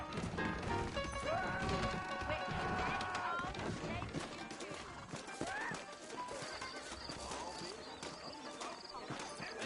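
Horses in Red Dead Redemption, set in New Austin: close hooves clip-clop in uneven rhythm, with sharp whinnies and neighs rising over a busy mix of movement and thuds.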